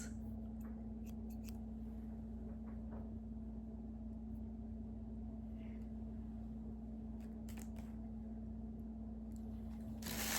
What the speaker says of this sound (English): A pair of cool scissors.